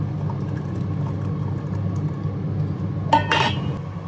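Water pours briefly into a teapot for brewing tea, a short bright splash with a faint clink near the end over a steady low kitchen hum.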